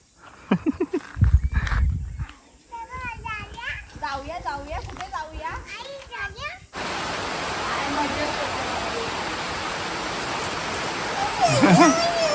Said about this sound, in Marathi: आता पाऊस आलेला आहे गावातला पहिला पाऊस आपला आल्यावर जोरात नाही बारीक बारीक आहे